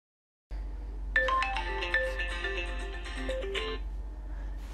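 An incoming call sets off a mobile phone's melodic ringtone after a brief silence, a clear run of bright electronic notes repeating for a few seconds and then fading, with a low hum underneath.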